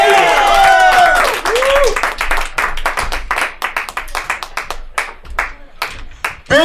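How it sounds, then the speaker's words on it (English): Applause from a live comedy show audience, with loud clapping that starts under cheering voices and thins into scattered individual claps toward the end. "Give him a round of applause!"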